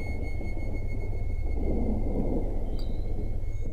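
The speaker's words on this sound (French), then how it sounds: "l'orage qui est actuellement en Lorraine est dans le coin" Distant thunder from a thunderstorm over Lorraine, a low continuous rumble rolling on and swelling slightly midway, with no voices over it.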